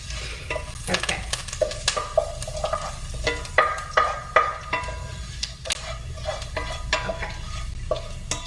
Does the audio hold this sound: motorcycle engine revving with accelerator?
no